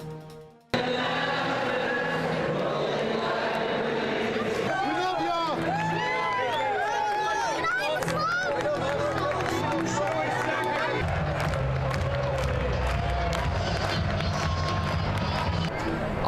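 Football crowd roaring at Milan Puskar Stadium in Morgantown during a WVU versus Oklahoma State game, a sustained loud wash of cheering and stadium noise, with an announcer and other voices talking over it.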